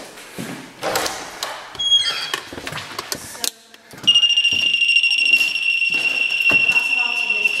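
An alarm in a dark town hall room sounds after several thumps and shuffling noises. A loud, piercing, high-pitched electronic tone then pulses continuously and fills the rest of the clip.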